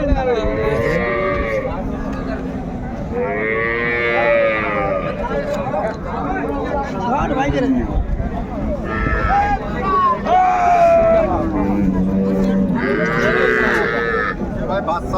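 Cows and calves moo again and again at Aftabganj cattle market, loud close calls overlapping with a busy crowd of people talking.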